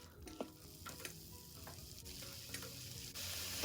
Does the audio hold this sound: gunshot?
no